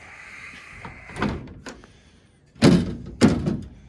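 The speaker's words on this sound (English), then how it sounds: "And we'll open the door here and look at it." An old Plymouth car door unlatches with a click and rattle, then two heavy thunks follow as the door swings and shuts, close by.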